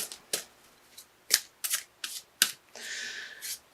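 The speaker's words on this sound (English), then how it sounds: "to pull an additional card for you, Sagittarius, by Doreen Virtue, the Archangel Michael Oracle cards" Archangel Michael Oracle cards by Doreen Virtue being shuffled by hand, a run of crisp, close riffling bursts at an uneven rhythm ending in a longer continuous flutter, with no talking.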